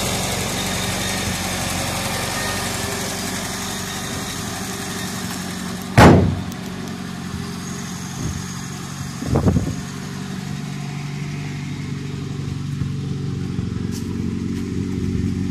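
A 1989 Tofaş Toros car engine idles with a steady, even rumble throughout, broken by a sharp thud and a couple of lighter knocks partway through.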